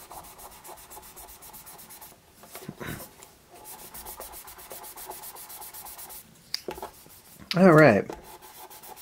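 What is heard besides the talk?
sanding a wood finish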